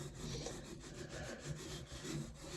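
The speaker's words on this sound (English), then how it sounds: "So I'm doing a roller." A paint roller spreads primer over freshly sanded wood, a steady soft rubbing, sticky swish in repeated strokes, close and continuous with no talking.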